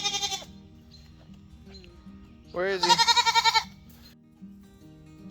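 Five-month-old goats bleat in a quavering, pulsing burst, with a brief cry at the start and a longer wavering call midway, while a person speaks quietly between them.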